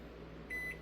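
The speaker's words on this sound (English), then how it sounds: "I'm going to stick it in the microwave on high for" Microwave oven running on high heating water, a low steady hum with a faint tonal beep partway through, quiet and close.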